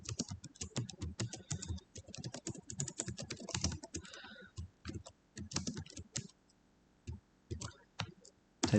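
Keys clicking in quick irregular bursts as a TI graphing calculator is programmed in TI-Basic, close and fairly quiet, with short pauses between runs of presses.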